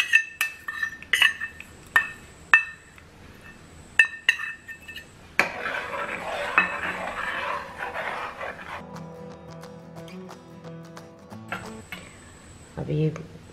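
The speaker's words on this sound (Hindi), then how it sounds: "और मिक्स करते रहेंगे कंटिन्यूसली जब तक ठीक ना हो जाए" A spoon stirs vermicelli custard in a pot, making repeated sharp metallic clinks against the sides in an uneven rhythm, followed by a stretch of softer scraping with a person speaking.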